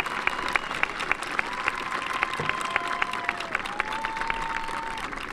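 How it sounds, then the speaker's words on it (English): Applause at a fifth-grade school recognition night, a crowd of parents and students clapping steadily with some louder individual claps standing out, a faint tonal whine running underneath throughout. "A big round of applause,"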